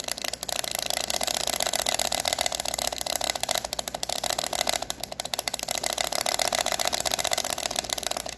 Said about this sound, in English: low strain and almost machine gun rate button pushing